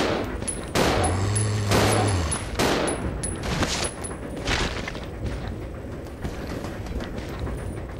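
Gunshots ring out aboard a train in Resident Evil Zero, a few loud, sharp reports early on that decay into a steady rumbling background with faint high chimes.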